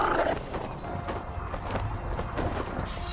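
Roach the horse in The Witcher 2 gives an agitated neigh and a brief clatter of hooves, the whinny loud and close over a busy game soundscape, with some muffled talk mixed in.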